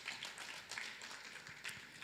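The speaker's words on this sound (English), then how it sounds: "Can you please give them another round of applause?" Faint, distant applause from an audience at a press conference celebrating Nigeria's polio eradication certification, a steady wash of many hands clapping with no voices over it.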